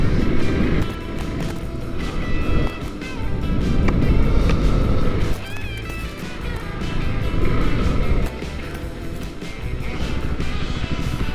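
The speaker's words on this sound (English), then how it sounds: "Kind of gives you an illusion that it's a faster bike than it actually is, because it gets up to speed so fast." KTM Duke 390 motorcycle being ridden, a steady loud engine drone mixed with wind rush, rising and dipping in pitch as it accelerates through the gears.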